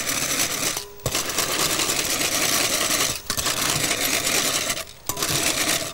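An electric whisk beats egg whites and sugar for a pavlova, a loud continuous whirring drone broken by three brief pauses as the mixer is stopped and restarted.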